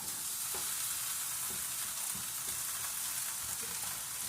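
Ground beef sizzles steadily in a hot pan, a constant loud frying hiss with occasional soft stirring clicks and scrapes, no voices.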